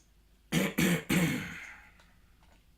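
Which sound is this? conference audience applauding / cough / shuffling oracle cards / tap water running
cough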